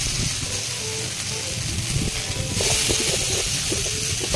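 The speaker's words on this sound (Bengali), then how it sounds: "পনিরগুলো আমি একটু হালকা ভেজে নেব।" Paneer fries lightly in hot oil with a steady close hiss and sizzle, and the sizzle grows louder and fuller halfway through.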